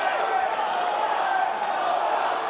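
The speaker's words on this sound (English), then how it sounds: "You can hear the crowd really getting in it" A crowd at a Hard Knocks Fighting MMA event cheers a hometown fighter during a main-event bout, a steady, dense roar that holds at an even level without breaks.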